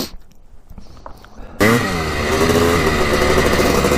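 A Honda CR 250 two-stroke dirt bike starts after a moment of quiet handling noise, then runs loud and close with a steady, buzzing, slightly revving engine note.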